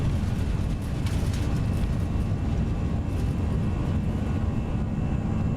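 Airbus A320 engines at takeoff power in the X-Plane 11 flight simulator, a steady loud broadband jet roar holding constant for several seconds with no talk over it.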